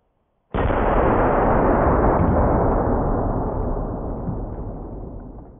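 A shotgun loaded with double-aught buckshot fires once at a hand grenade: one sudden, loud, close blast that starts abruptly and decays slowly into a long, heavy rumble, with no voices.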